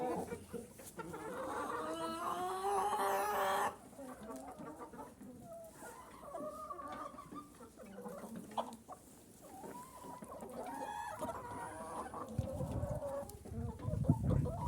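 Several chickens cluck and murmur close by in a busy, uneven chatter while eating sunflower waste, with scattered pecks and rustling.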